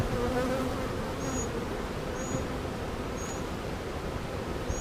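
Honeybees buzz steadily and closely throughout a mid-June hive inspection on a farm, a dense continuous hum with no talking.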